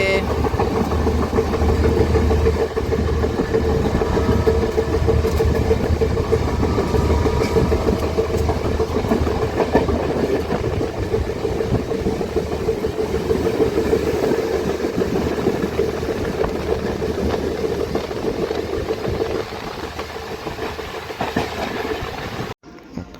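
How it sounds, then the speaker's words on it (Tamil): An express train pulls into Jaffna railway station, a loud continuous rumble of wheels and rail clatter with engine drone that holds steady for over twenty seconds before cutting off. "புகையிரதம் இப்போ வந்து கொண்டிருக்க வந்து கேட்கக்கூடியா இருக்குது."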